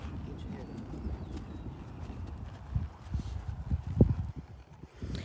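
Horse hooves clip-clopping in an irregular walking rhythm, soft at first and growing more distinct with a few sharper hoof strikes, heard fairly close in an outdoor setting.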